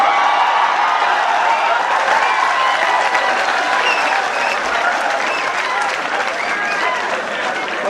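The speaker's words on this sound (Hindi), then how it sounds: "चौथी पंक्ति में बजाना तालियां, टाइमिंग सही रखो।" Audience at a Hindi comic poetry performance breaks into loud, continuous applause, a thick, even roar of clapping from a large crowd throughout.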